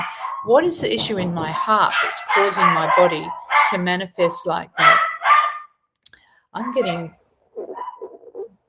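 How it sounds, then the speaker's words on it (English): Dogs barking indoors during a live stream, heard in the background under steady talk by a speaker, with short bursts between phrases. "So sorry for the dogs barking"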